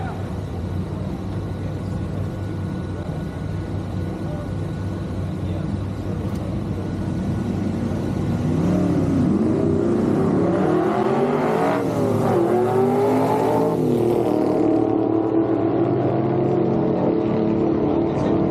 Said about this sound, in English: Here comes our next pair of cars, Brian Forward and Bobby Bell.